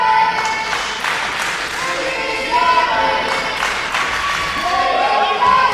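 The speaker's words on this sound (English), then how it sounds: "now we've got an EC Diamond chant instead" A professional wrestling crowd at Fight or Die 2025 chants EC Diamond's name, a dense roar of many voices with rhythmic surges and scattered claps and cheers, while a commentator talks over it.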